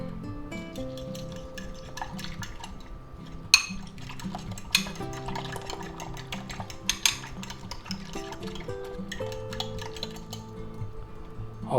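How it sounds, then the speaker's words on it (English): Spinach leaves get stirred into breakfast burrito filling in a bowl, with soft scraping and light clinks of a utensil against the dish continuing steadily and close by, with occasional sharper knocks. "And we're going to mix that up."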